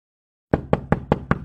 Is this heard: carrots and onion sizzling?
no